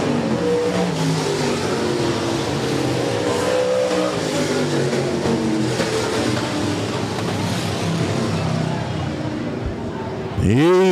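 Stock cars roar around an oval speedway at a nighttime feature race, a loud continuous engine drone with rising and falling revs as the field passes, under a track announcer's commentary and crowd noise.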